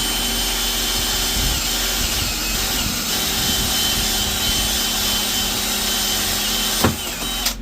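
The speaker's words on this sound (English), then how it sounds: "I'm just gonna drill a hole in here the size of this pen" A drill drilling a hole in wall paneling in a campervan gives a steady, loud whine that runs continuously with no pauses, then cuts off with a sharp click near the end.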